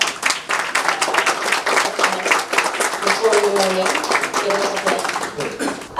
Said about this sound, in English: Please give the man a round of applause